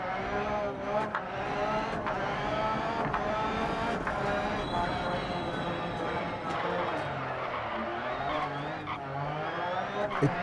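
A car climbing the Pikes Peak hill climb course, its engine droning steadily with shifting pitch throughout, heard from inside with someone talking over it.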